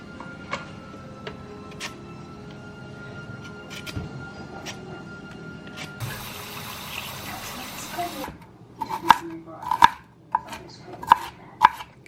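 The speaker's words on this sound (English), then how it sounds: "Cutting celery" A knife chopping celery on a cutting board at home, first soft background kitchen noise and a brief running-water hiss, then a series of crisp, loud, irregularly spaced chops close by.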